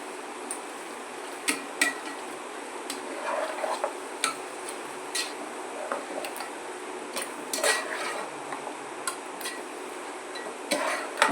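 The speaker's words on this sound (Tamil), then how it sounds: "இஞ்சி பூண்டு பேஸ்ட்டை போட்டுட்டு நல்லா 2 கிளறி விட்டுட்டு" A spoon stirs a pot of home-style chicken curry with ginger garlic paste, onion, tomato and curry leaves, giving irregular light clinks and taps against the metal rim over a soft, steady background, with no voices.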